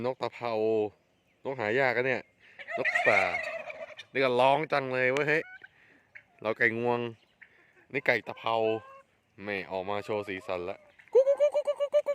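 Turkeys gobble in bursts of loud, warbling calls, several close calls separated by short pauses, with rapid rattling gobbles toward the end.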